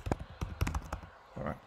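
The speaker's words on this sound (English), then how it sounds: "Just typing things out." A computer keyboard gives a handful of quiet, irregular keystrokes in quick succession, with a short pause before a final soft burst.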